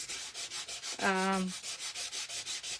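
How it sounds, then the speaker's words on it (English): A nail buffer rubs lightly over cardstock in fast, even back-and-forth strokes, a close, steady rhythmic scraping, briefly overlapped by a short tonal hum. "rubbing it on the cardstock to expose the white"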